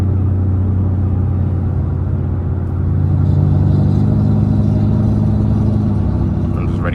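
An Infiniti G37 with a VQ engine and loud exhaust rumbles steadily from inside the car, swelling slightly partway through as it pulls ahead.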